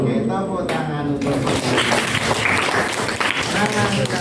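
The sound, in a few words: applause in class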